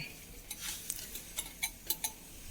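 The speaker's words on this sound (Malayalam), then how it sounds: "മുട്ട ചേർത്ത് നന്നായി ചേർത്ത് കൊടുക്കാം." Egg being stirred into a carrot and date cake batter, a quiet run of light scraping and tapping strokes in a regular rhythm, close by and with no talking.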